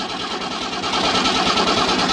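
A 320-horsepower turbo Fordson tractor with a rebuilt engine after cracked liners is started, rising into a loud, busy mechanical clatter that swells and holds steady nearby.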